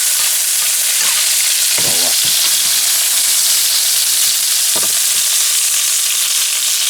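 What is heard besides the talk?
quail pan searing in a frying pan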